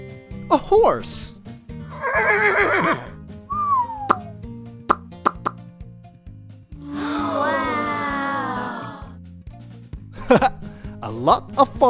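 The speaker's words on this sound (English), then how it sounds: "A horse." A cartoon horse gives a long, loud whinny in the middle of playful children's music, with bright plops and chirpy sound effects on either side.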